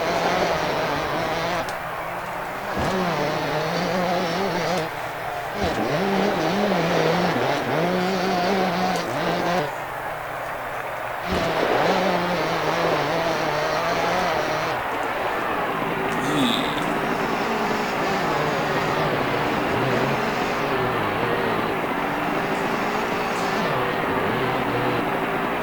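A motocross bike engine in the racing video game Championship Motocross 2001 drones in a loud, continuous high-pitched buzz, rising and falling in pitch as the rider shifts and revs across the track.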